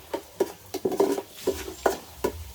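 Onion, garlic and ginger browning in a pan for Batangas beef goto, with a spoon scraping and stirring in a steady rhythm of short bursts over a low sizzle, close and fairly quiet.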